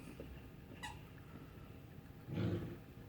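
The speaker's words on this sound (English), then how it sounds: "Every time I try and film something, Dexter decides to squeak toys" A dog works a squeaky toy, producing a couple of short, sharp squeaks, one brief and a louder one near the end, over a quiet indoor background.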